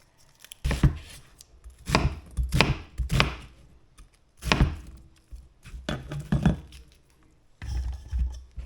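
Half an onion is chopped in a food processor, sounding as a series of short, loud, close chopping bursts in uneven pulses separated by brief quiet gaps.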